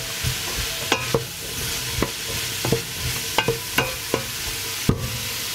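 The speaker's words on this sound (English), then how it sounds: "I will stir and fry for 10 minutes." Food frying in a pan with a steady background sizzle, punctuated by repeated scrapes and sharp clinks of a utensil stirring, close up and without any speech.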